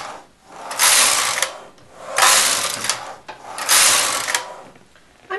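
A knitting machine carriage slides back and forth across the needle bed with a ribber in place, three long rattling, clattering passes with brief pauses between rows, close and loud with no voices.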